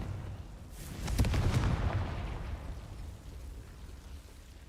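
A Confringo fire blast spell cast in Hogwarts Legacy, one sharp explosive burst that booms and then crackles as it fades out over a few seconds, standing alone without any talk.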